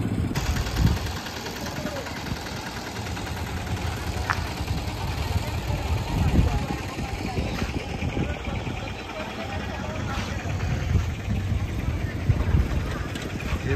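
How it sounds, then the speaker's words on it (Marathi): An auto rickshaw engine runs with a steady low rumbling putter throughout, close and continuous, under background noise. "ह्या बघा रिक्षा जे आम्हाला नागेश्वरला घेऊन जाणार आहे"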